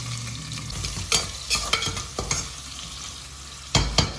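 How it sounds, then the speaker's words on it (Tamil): Onions fry in hot oil with fennel seeds for empty salna, sizzling steadily under several sharp scrapes and knocks of a spatula on the pan, close and moderately loud, with no talk. "இப்போ நம்ம வெங்காயத்தை போட்டுக்கலாம்."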